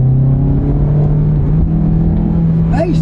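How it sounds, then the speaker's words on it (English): A small Mazda SUV with a small engine accelerates along a road, its engine note climbing steadily as it revs up, heard loud and close over a constant road rumble. "Hey, step on the gas, it goes."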